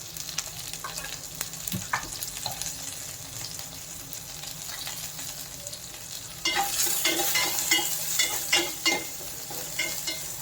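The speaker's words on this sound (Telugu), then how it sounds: "ఆల్రెడీ ఆయిల్ వేడిపోయింది కాబట్టి తొందరగానే వేగిపోతుంది" Onion and green chili fry in hot oil with turmeric going in, a low sizzle and scattered utensil clinks that swell into louder, busier frying and stirring partway through.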